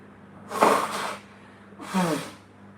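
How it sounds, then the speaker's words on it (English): Someone blows their nose close by in two strong, breathy honks separated by a short pause, the second burst a little shorter. "I need to blow my nose, guys."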